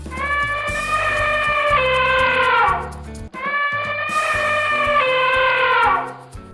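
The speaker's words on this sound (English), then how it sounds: "Elephant." An elephant gives two long, loud, brassy trumpeting calls, one after the other, over a steady backing of music.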